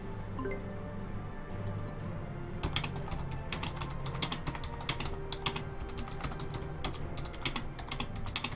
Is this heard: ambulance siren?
no